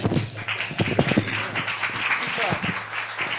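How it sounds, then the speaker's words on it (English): An audience at an Africentric education symposium claps in a brief round of applause that stays fairly close and moderately loud, with voices talking over it. "Round of applause, round of applause."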